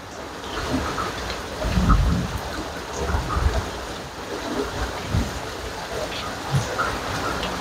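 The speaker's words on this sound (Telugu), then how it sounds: "వర్షం అయితే దంచి కొడుతుంది." Heavy rain pounding down in a windy thunderstorm, a dense, loud steady roar broken by low rumbles of thunder that swell and fade several times.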